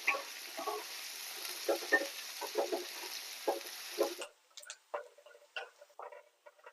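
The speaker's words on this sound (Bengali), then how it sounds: "একটু লো ফ্লেমে আস্তে আস্তে করে ভেজে নেবেন।" Onions fry gently in oil over a low flame for birista, a soft continuous sizzle broken by frequent scraping stirs, after which the sizzle cuts out and only scattered stirring clicks remain.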